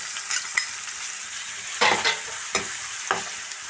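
Ginger garlic paste, onion, green chilies and curry leaves sizzle in hot oil, with several distinct spatula scrapes and stirs over a steady frying hiss.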